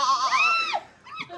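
A man imitates a goat with a wavering, nasal bleat, loud and close, followed by a shorter, quieter vocal tail.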